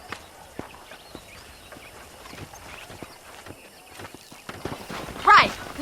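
Horse hooves clip-clop at a steady walking pace in the video game Red Dead Redemption, soft and moderately close, followed by a brief whinny near the end.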